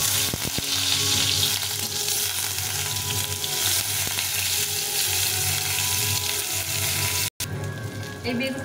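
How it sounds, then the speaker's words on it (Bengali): Eggplant slices sizzle steadily in hot oil in a pan, a loud continuous crackle with a few sharp clicks of turning near the start and a brief cut near the end. "এভাবে উল্টে পাল্টে ভেজে নেব।"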